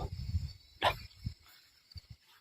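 A dog gives a single sharp bark at night, fairly close, amid low rumbling background noise and faint scattered sounds.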